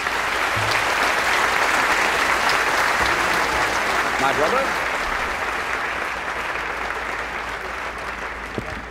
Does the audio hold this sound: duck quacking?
no